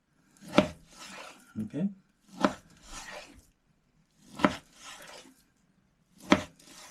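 A sharp knife chops through pork shoulder into scotch steaks in distinct, separated strokes, each a crisp thud against the board, close and clear, with a brief spoken word at the start.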